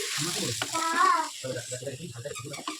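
Whole cumin seeds and marinated masoor lentils hit hot oil in a kadai, giving a soft, steady sizzle that sits under a voice as she talks through the step.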